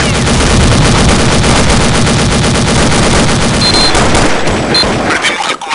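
Dense sustained automatic gunfire from Counter-Strike: Condition Zero on the Cobblestone map, loud and close, with rapid overlapping shots filling the whole stretch and tapering off near the end.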